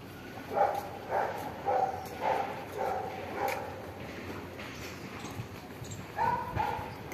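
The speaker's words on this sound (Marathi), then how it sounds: "कुत्रे भुंकायला लागलेत." Several dogs bark in repeated bursts at moderate distance outside a garden compound, the yaps coming in an irregular rhythm with a fresh cluster near the end.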